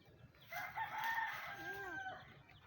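A rooster crows among chickens and small chicks, one drawn-out call rising and falling in the middle of the clip, with soft clucking around it at moderate distance.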